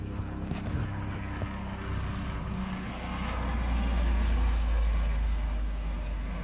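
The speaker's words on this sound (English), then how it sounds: "It's a helicopter." A steady low engine drone of a helicopter passing overhead, swelling slightly louder midway before easing, with no voices.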